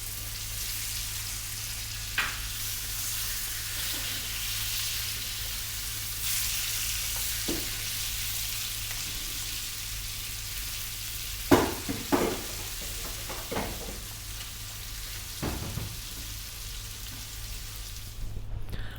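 King fish frying in seasoned oil over above-medium heat, a steady close sizzle running throughout with occasional sharper pops and crackles toward the end.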